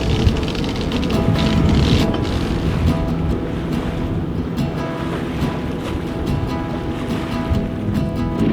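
Ocean surf and a big wave washing past a sailboat at sea, a steady broad rushing wash with wind buffeting the microphone throughout, fairly loud and continuous with no talking.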